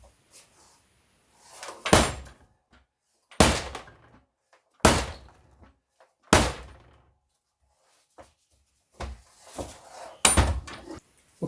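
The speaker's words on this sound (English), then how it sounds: "after a couple of slams I managed to push it in through a little bit more" Heavy slams strike while pushing a part into a BMW E39 Touring rear axle during reassembly, about seven loud separate metallic thuds spaced a second or two apart, with quieter handling noises between.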